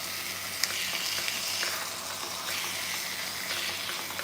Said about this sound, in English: Yes, that's the nice sizzling sound I want to hear.